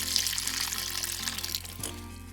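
Water poured onto a potted plant, pouring steadily with a splashing, trickling hiss, close by and fairly soft.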